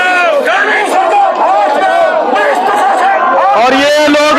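An agitated protest crowd at Dilaram Chowk marches toward the Chief Minister's residence and clashes at police barricades, with many voices shouting and chanting loudly and continuously in a dense, close roar.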